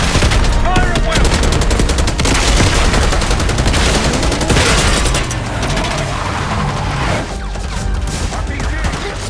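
Dense gunfire in Call of Duty Black Ops 6, rapid automatic bursts and scattered shots crackling loudly and continuously amid battle noise, with voices shouting beneath.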